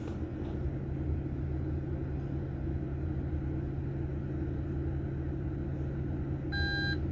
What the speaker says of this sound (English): It starts beeping.